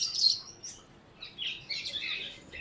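Birds at a Sunday bird market in Rasheedabad, Multan, Pakistan, give several sharp high chirps and tweets in scattered bursts against a quiet background, with no talking.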